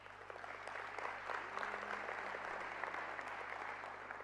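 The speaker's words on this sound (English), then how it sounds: "Could we give the leadership of Paraguay a round of applause?" An audience at a global peace convention applauds, a steady, even wash of many hands clapping throughout, moderately distant and without speech over it.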